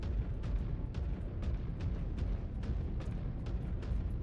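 A roughly 30-ton mech in MechWarrior 5 Clans stomps along in heavy, booming footfalls about every half second, each thud landing over a constant deep rumble.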